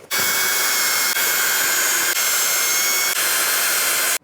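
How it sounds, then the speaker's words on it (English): A power drill runs steadily at a loud, high-pitched whine, boring holes during assembly of a SYM Fiddle IV 125 scooter, with brief dips in the motor sound, close up and without talk. "as we can see here, we have to drill this"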